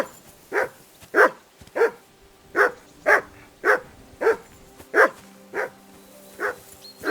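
A dog barks repeatedly in the video game Kingdom Come: Deliverance II, about a dozen loud, close barks at a steady pace of roughly one every half second, with faint background ambience and no talking.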